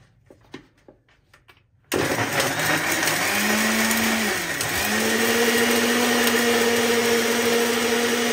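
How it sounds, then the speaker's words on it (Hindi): A mixer grinder blends a banana protein shake: a few light knocks as it is set up, then the motor starts abruptly into a loud, sustained whine and roar that dips briefly and keeps running. "मिक्सी में चढ़ा दिया भाई ने"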